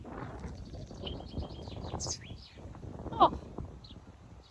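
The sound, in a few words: bird calling outdoors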